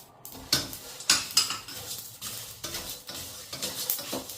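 Spices such as cumin and fennel being dry-roasted in a pan for an eggplant curry, with repeated scraping and stirring clatter of a utensil against the metal pan, close and moderately loud, a few sharper knocks among softer rustling.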